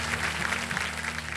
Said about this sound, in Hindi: और तालियों के साथ इनका स्वागत करते हैं